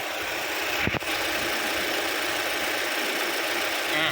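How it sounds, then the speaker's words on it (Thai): A 2012 Toyota Altis 1.8 engine idles steadily with an even, hissy hum, close by, broken only by a brief soft thump early on. "เดี๋ยวเรามาฟังเสียงเครื่องยนต์กันดู"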